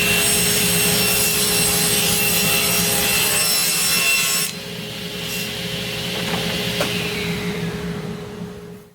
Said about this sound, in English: Then I'm going to cut these strips down to the same length, or width I should say.